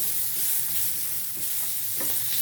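Turmeric powder sautéing in hot oil in a pan for a variety lunch-box rice, a steady sizzle with faint stirring scrapes near the end.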